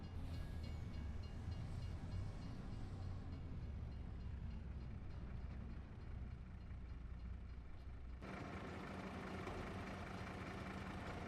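A train in the video game Farming Simulator 25 rumbles and idles in a low, steady drone, with an abrupt shift in tone partway through.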